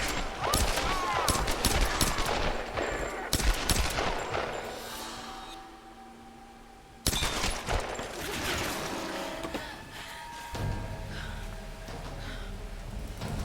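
Dense bursts of gunfire in Tomb Raider, rapid automatic fire and scattered shots, with a brief lull in the middle before the shooting resumes.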